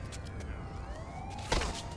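A wailing ambulance siren in the video game The Warriors rises and falls in the background, with a brief thump near the end and no talking.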